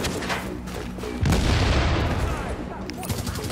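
A grenade bursts amid gunfire in The Division, a loud broadband blast about a second in that rolls on for over a second, with scattered shots continuing around it.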